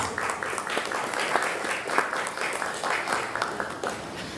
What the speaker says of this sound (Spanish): pido un aplauso para el doctor Carlos Rivera Vélez